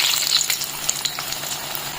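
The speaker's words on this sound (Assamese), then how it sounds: "আমি প্ৰথমতে আলুখিনি ভাজি লম" Potatoes hitting hot oil for a pork curry give a brief, close sizzle and spatter with a few sharp crackles, fading slightly toward the end.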